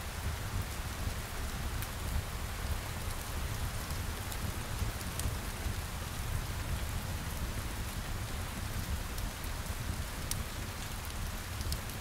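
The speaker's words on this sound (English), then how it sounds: "It's pouring outside, the rain pattering on the window pane." Steady heavy rain pouring and pattering on a window pane, a dense even hiss with scattered sharper drop ticks, unbroken and fairly loud for the whole stretch, with no voices.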